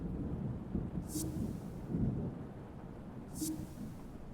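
Rain and thunder ambience in a video game: a quiet, steady low rumble of rolling thunder under a soft hiss of rain, with two brief bright crackles.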